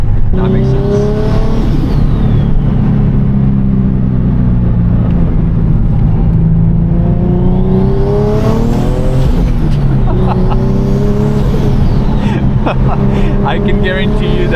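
A turbocharged VQ engine in a Nissan 370Z NISMO accelerates, heard loud from inside the car, with revs repeatedly climbing and falling in a droning, harmonic roar while occupants talk underneath.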